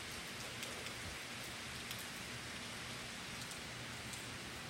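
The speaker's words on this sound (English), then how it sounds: "The rain is coming down hard" Heavy rain pours steadily during Hurricane Michael in October 2018, a dense, even hiss of drops beating on surfaces with no break, fairly faint and heard alone without voices.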